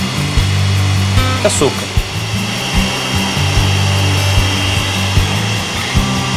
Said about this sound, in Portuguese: Agora eu vou batendo as claras.